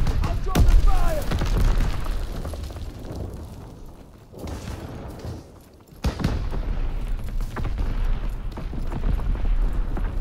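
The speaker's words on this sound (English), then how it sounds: "V2 Rocket, it's ready for launch." A V2 rocket launching in a video game, a loud booming explosion that rumbles continuously, dips briefly near the middle, then swells again into a sustained roar, with a voice speaking over it.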